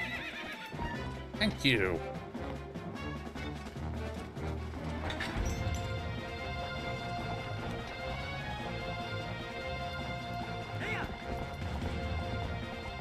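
A horse in the video game Twilight Princess whinnies and clip-clops along with galloping hoofbeats, mixed with game music and effects, while a person talks over it.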